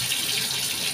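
Running tap water splashes steadily into a sink as a burnt, milk-scorched tea pot is rinsed before scrubbing, a continuous close hiss with no talk.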